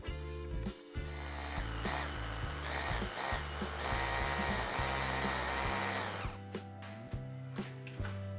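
A power drill whines at high speed for several seconds, grinding into a wall, then stops, followed by a few short bursts and clicks.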